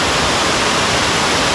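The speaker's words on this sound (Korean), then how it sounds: "수락이라는 이름에 걸맞게 폭포가 아주 수려하게 떨어지고 있습니다." Waterfall on Suraksan mountain, with water falling in a steady, loud, full-bodied rush of broadband roar. There is no break, and no other sound stands out.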